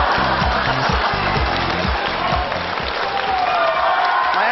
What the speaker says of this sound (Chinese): 让我们掌声有请马先生